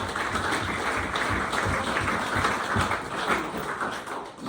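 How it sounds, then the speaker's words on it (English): Audience applause for a former footballer who scored 18 goals in a season, a steady, moderately distant patter of many hands clapping that fades slightly near the end. "Yes, big round of applause, Melly."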